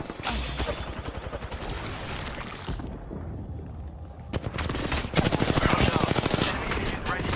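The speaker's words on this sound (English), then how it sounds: "Taking fire. Firing." Automatic gunfire in Apex Legends, loud rapid machine-gun bursts that pause briefly and then resume in a sustained, dense stream of shots.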